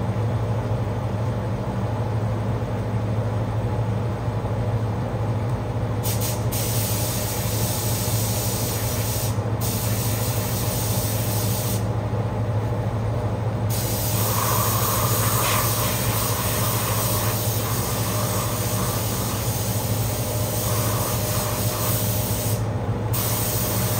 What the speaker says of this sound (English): I gotta turn the booth on, so I might mute it out or I might fast forward it